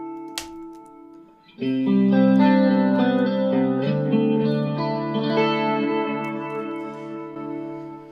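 Strummed electric guitar through a Boss MS-3 with a shimmering, warbling chorus effect and echoing repeats, starting after a brief quiet pick and sustaining loudly without speech.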